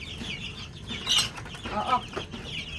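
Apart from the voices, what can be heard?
baby chickens clucking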